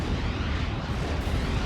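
Calliope rocket artillery in Steel Division: Normandy 44 sets off a continuous rumble of distant explosions and rolling booms that blend into one dense, noisy roar throughout.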